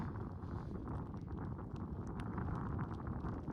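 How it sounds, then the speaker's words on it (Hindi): Strong wind in the Zanskar valley of Ladakh roars and buffets the microphone without letup, a dense, rumbling rush with no voices over it. "तो भाई हवा चल रही है बहुत तेज।"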